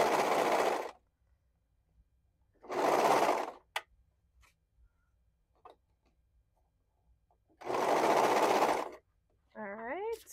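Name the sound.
sewing machine stitching a neckband onto fabric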